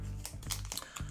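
Crisp crinkling and tearing of plastic packaging around a pair of SoundPEATS GoFree 2 earbuds, a quick burst of close, uneven rustles with no talking.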